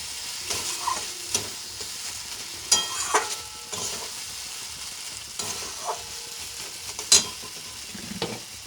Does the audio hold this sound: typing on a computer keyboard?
no